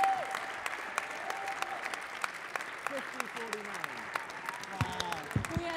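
An auction audience applauds after a Battlestar Galactica prop painting sells for $17,500, giving sustained crowd clapping with sharp individual claps standing out and voices talking and calling over it.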